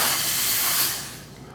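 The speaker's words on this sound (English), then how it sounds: "I'm going to steam it," A steam iron gives a short burst of hissing steam on a fabric quilt block, loud at first and then tapering off over about a second.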